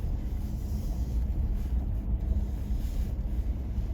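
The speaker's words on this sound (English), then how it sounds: "You come around the corner or down another side and you're right into the wind, right where the wind is." Wind blowing across a Maine mountainside during a hunt, a steady low rumbling buffeting against the microphone with gusty swells throughout, no voices.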